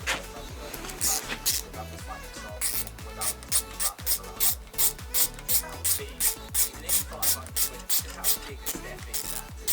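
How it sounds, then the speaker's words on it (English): A ratchet clicks rapidly and repeatedly while bolting down the oil pump and front plate on a rebuilt LS1 engine, coming in quick rhythmic bursts of close, crisp pawl clicks. "I will bolt down the oil pump, and then I can take the feeler gauges out and bolt the front plate back on"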